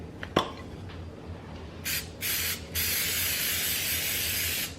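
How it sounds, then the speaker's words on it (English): A sharp click, then a cooking spray can hisses into a 9 by 13 baking dish in short bursts followed by one long continuous spray, close and alone. "we are first going to take this 9 by 13 baking dish and add some cooking spray"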